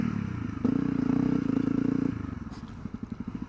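A Honda CRF250L dirt bike rides through muddy grass, its engine droning steadily before breaking into a chugging, pulsing idle-like rhythm toward the end, with some clatter, close by and without talk.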